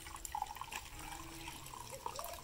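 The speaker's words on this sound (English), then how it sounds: "I'm rinsing and I'm squeezing." Soft splashing and dripping come from wet wool felt being rinsed and squeezed by hand in a bucket of warm water, quiet and close, with small irregular drips and trickles.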